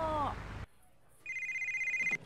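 A telephone rings in GTA Vice City Definitive Edition, a steady electronic trill that cuts in after a short lull and repeats for about a second, heard on its own after brief game sound and a moment of near silence.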